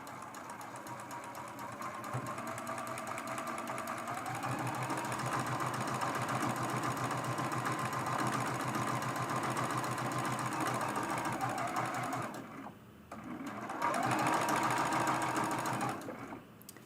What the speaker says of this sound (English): We're going to sew this top fabric on.